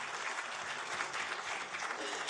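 Audience applause at a national conference on mental well-being fills the moment, a dense, even wash of clapping heard alone and at moderate distance.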